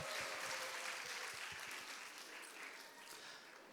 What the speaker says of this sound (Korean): 우리 함께 박수하면서 가도록 하겠습니다